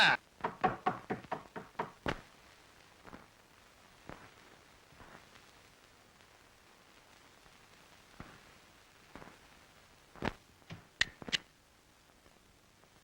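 Someone knocks on a door in a rapid burst of sharp raps, followed by scattered single knocks spaced out over several seconds, faint and slightly distant.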